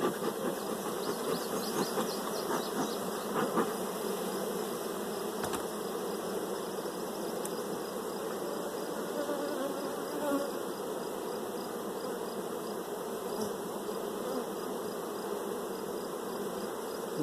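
Dense, steady buzzing of many honeybees fills an open hive throughout, a continuous close drone with faint occasional clicks of frames being handled.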